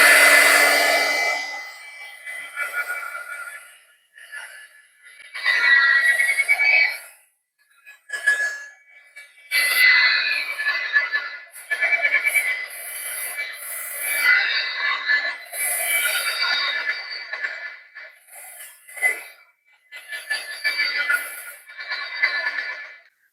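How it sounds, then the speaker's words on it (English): A heat tool blows hot air to dry freshly made craft labels and dangles, a steady hissing rush that runs on and off in bursts close to the mic, with no talk over it. "I'm going to turn my heat tool on, so you'll hear it for just a second"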